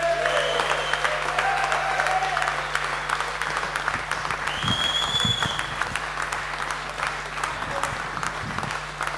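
Warm applause from a concert audience at an evening show, dense and sustained clapping that fills the room, gradually easing toward the end.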